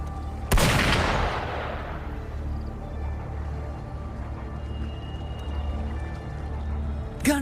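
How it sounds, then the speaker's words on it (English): Gunfire in the video game Wuthering Waves: one sharp, loud shot bursts out near the start and decays over a rumbling background, with a second fainter crack at the very end. "Gunfire! We've got intruders."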